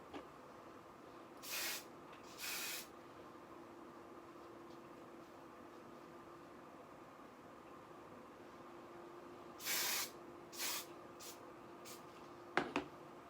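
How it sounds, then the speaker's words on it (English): Hairspray is misted onto a cosplay wig in several short hissing bursts, two early and a quick cluster later, over a faint steady background hum. "So I do spray all the small chunks together"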